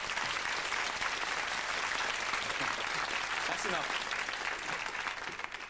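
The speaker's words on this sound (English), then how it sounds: "I think it deserves a round of applause" A studio audience gives a sustained round of applause at a 1997 British television show, dense clapping filling the space evenly before easing slightly at the end, with a voice briefly speaking over it.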